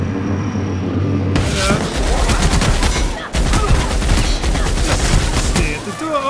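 Gunfire in the video game The Outer Worlds pours out in loud, dense volleys of rapid shots and booms, broken by a brief drop in the middle before the shooting resumes.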